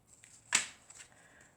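A cheap 56-card deck of playing cards is handled close by, giving one sharp snap-like flick followed by a few soft card rustles in a quiet room.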